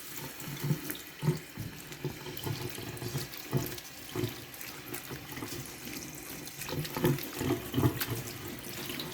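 Cold tap water running into a kitchen sink over shredded potatoes and onions in a colander, a continuous close splashing stream with uneven bursts as the food is stirred.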